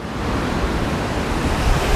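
Steady, loud rushing water pours at the Cachoeira do Sanossa waterfall, a constant broadband roar with no voices.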